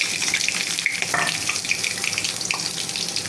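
Raw chopped onions frying in hot mustard oil for a chicken curry, a steady close hiss and sizzle with faint crackles throughout, no talking.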